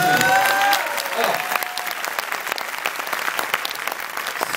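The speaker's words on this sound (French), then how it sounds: "On peut les applaudir quand même." Audience applause at a French show: a dense, steady clapping crowd, loudest at the start with whooping voices over it, then settling into even clapping that continues to the end.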